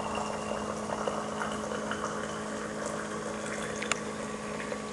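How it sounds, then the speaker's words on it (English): Boiling water pours steadily from an electric kettle for blooming tea, with a continuous bubbling, hissing flow, close and fairly even throughout. "I'm going to be dispensing water from my electric kettle"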